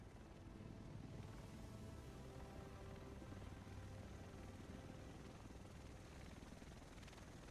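Helicopter arriving in the video game The Division, heard as a steady, fairly loud rotor and engine roar that holds constant throughout with no talk over it.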